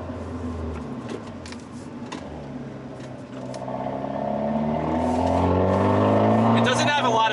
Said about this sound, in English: It doesn't have a lot of power in second gear until you get going. That's the turbo.